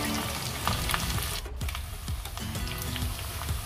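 Curry ingredients for a dried-fish and cowpea curry sizzle and fry steadily in a pan, with scraping stir sounds and soft crackle throughout, close and continuous, no talking.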